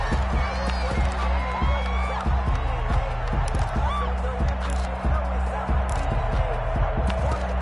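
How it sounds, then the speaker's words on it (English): A stadium crowd in a PS4 American football game cheers steadily with a continuous roar and whoops, while a commentator talks over it and repeated thumping beats run underneath. "And this crowd has certainly liked what they've seen."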